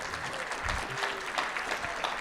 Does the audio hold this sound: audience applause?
yes